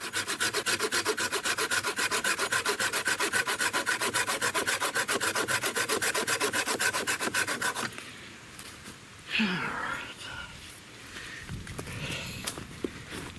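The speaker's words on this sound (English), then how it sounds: "So let's do a timed cut." An Olmsted Forge 7 inch saw cuts through a tree limb in rapid, even rasping strokes for about eight seconds, then stops, leaving faint rustles and handling noises.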